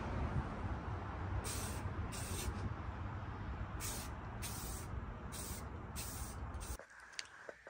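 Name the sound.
spraying clear coat onto a car grille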